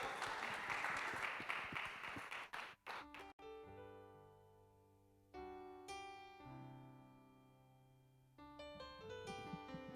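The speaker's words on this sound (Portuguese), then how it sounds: "aplauda a Jesus e adore" A church congregation claps during a Sunday worship service for about three seconds. The applause is dense at first, then thins and gives way to sustained, quiet musical chords that swell and fade.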